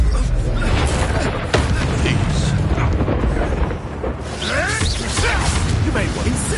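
A Confringo spell in the Hogwarts Legacy game goes off as a loud, dense booming blast among whooshes and rumbling combat noise, close and continuous, with a voice partly over it.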